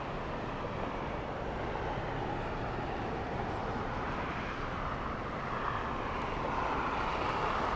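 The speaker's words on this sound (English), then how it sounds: "we have Condor 2080 flying in from Frankfurt" A Condor Airbus A330neo arriving at LAX from Frankfurt gives a steady, distant jet roar that holds even throughout with a slight swell toward the end.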